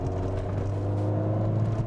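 Ford Fiesta ST engine and exhaust idling with a steady, throaty low drone and deep rumble, close and continuous with no talk.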